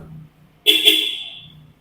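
A single horn on a modified third-generation Ford Ranger honks sharply and holds for about a second, close and loud, in an otherwise quiet space.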